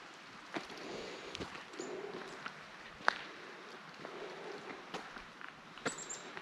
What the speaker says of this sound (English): Nice, deep, thick woods. Full of birds.